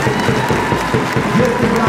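A crowd applauds and cheers steadily for a young footballer named Wojtuś at a youth team presentation for SKRZAT Orlęta Spomlek Radzyń Podlaski, with voices mixed in.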